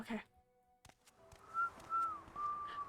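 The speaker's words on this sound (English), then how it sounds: "Don't whistle." A person whistles a melodic tune in short sustained notes, fairly close, over background game sounds and a speaking voice.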